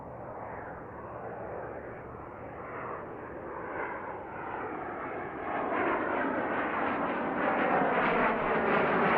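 Fixed-wing airplane departing runway 17 left at Centennial Airport, a steady broadband engine roar that builds louder toward the end as it climbs out, with no talk.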